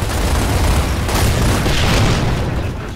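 Boom Shot rocket blast in Gears of War Ultimate Edition: a loud, sustained roaring explosion with heavy low rumble that swells and then tapers off over a few seconds, no voices.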